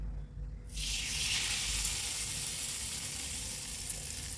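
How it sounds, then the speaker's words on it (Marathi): After a brief quiet moment, a sudden loud sizzle erupts as hot tempering with curry leaves and dried red chili is poured onto chutney, then crackles steadily and evenly until the end. "हा तडका मस्तपैकी गरमागरम चटणीवर घालूया"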